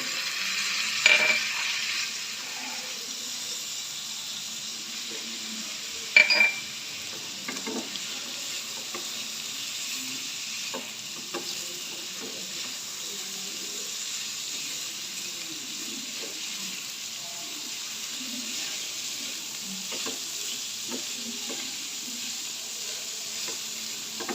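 Tomato, green chili and onion frying lightly in a pan for a chicken sandwich filling, a soft steady sizzle with a couple of sharp utensil knocks and occasional stirring.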